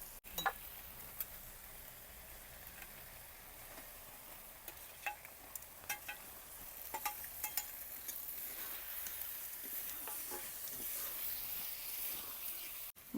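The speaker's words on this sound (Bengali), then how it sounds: "মাছটা মশলা সহ 2 মিনিট হালকা তাপে ভেজে নিলাম।" Marinated boraali fish fries gently with salt, turmeric and spices on low heat, giving a steady soft sizzle with scattered scraping stir clicks throughout and no talking.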